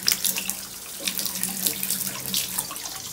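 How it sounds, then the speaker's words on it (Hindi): A household tap runs warm water for hand washing into a sink, a steady close splashing stream with small irregular spatters and no talk. "वार्म वाटर से हाथ धोना है ग्रानी को"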